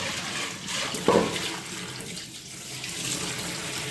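Tap water pours steadily over raw chicken being washed in a sink for chicken biryani, a continuous close splashing hiss with a brief louder gush near the start.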